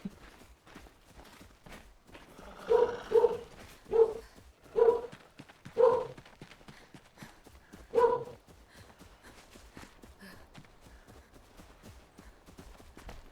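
A dog barking somewhere nearby, six distinct woofs in an irregular sequence, moderately loud over a quiet background, then silence.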